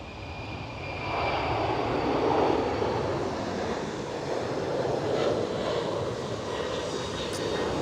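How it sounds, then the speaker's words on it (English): A TUI Boeing 767 jet airliner passes with a steady engine roar that swells after the first second and holds at moderate level, faintly distant and broad, with some wind noise and no talk. "TUI 767."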